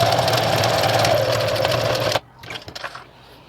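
A sewing machine backstitches the lining of a toiletry bag, running as a loud, steady mechanical whir for about two seconds before stopping abruptly, followed by a few faint handling clicks and rustles.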